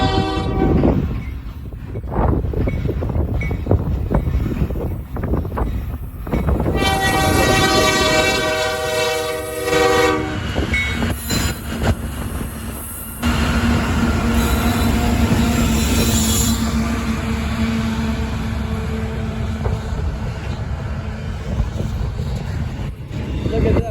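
BFB and CSX freight trains pass side by side on the railway at Lake Avenue, Blasdell, NY, a loud continuous rumble of wagons and wheels with a sustained horn blast in the middle, wind noise throughout and a brief voice.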